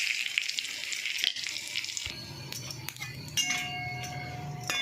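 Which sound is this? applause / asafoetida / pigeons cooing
asafoetida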